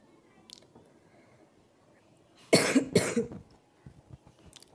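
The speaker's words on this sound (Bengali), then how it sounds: "আমার কাশি বেড়ে যাচ্ছে গাইস" A person coughs twice in quick succession, close and fairly loud, after a quiet stretch with faint background noise and a few softer sounds around it.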